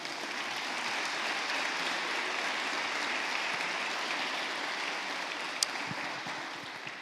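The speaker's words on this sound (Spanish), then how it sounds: "denle un aplauso a eso" Sustained applause from a church congregation, a broad even wash of many hands clapping at a moderate distance, holding steady throughout with a single sharp click near the end.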